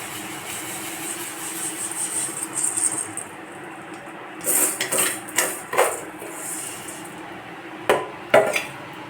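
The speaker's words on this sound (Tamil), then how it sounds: "இப்போ சேமியா கொஞ்சம் நல்லா கிளறி விட்டுட்டு" Vermicelli (semiya) being stirred in a pot of payasam with sago, with a low simmering background broken by irregular clinks and scrapes of a spoon against the metal pot.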